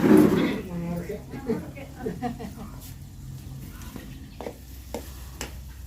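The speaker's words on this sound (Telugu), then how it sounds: "అదే అల్లం వెల్లుల్లి పేస్ట్ అయితే వేగిపోయింది" Ginger garlic paste frying in a pan for a potato fry, a soft sizzle with stirring scrapes, strongest at the start and then fading under intermittent scraping; a voice talks over it.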